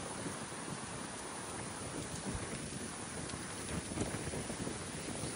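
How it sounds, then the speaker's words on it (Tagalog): Strong wind at MacRitchie Reservoir in Singapore roars and buffets the microphone in steady broadband gusts, with no talking over it. "ang lakas ng hangin"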